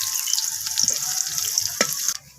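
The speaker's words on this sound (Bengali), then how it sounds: "এরপর আমি ওই একই তেলের মধ্যে ফোড়নে দিয়ে দিয়েছি 5 ফোড়ন আর একটা তেজপাতা আর একটা শুকনো লঙ্কা।" Panch phoron, a bay leaf and a dried chilli fry in the same oil used earlier for potatoes. The close, hissing sizzle crackles for about two seconds and then quickly fades.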